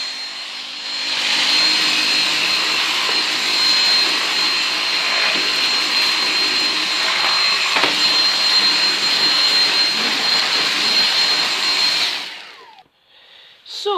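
A Dyson V6 cordless vacuum cleaner runs loud and steady with a high, airy motor whine for about twelve seconds, then cuts off abruptly, leaving brief faint rustling at the end.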